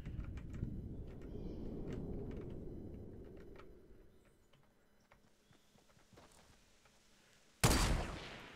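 A short, loud burst of gunfire goes off in Fortnite Battle Royale near the end of a quieter stretch of game ambience and footsteps.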